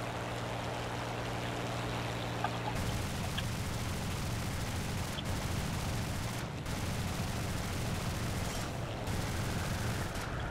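Gunfire hammers at an I-16 fighter plane in War Thunder, dense rapid machine-gun bursts under a constant loud engine roar, continuous and close throughout with a steady low drone at the start.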